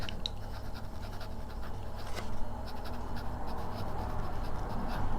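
A Hongdian 920 fountain pen written in reverse across paper gives a continuous fine scratching, close and fairly quiet, with light rhythmic strokes over a low steady background hum.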